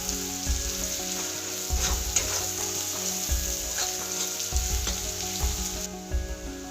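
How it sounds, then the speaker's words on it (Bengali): Grated ginger and garlic sauté in a hot pan with a tablespoon of ginger, giving a steady close sizzle broken by repeated scraping stirs of a utensil and no talking. "এবারে গ্রেট করা আদা, সেটাও 1 টেবিল স্পুন নিয়ে নিয়েছি, সেটাও একসাথে ভালোভাবে একটু কষিয়ে নেব"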